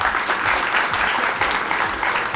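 Boys in a studio audience clap together in a dense, even burst of applause that runs steadily from start to finish, loud and close, with no talk over it.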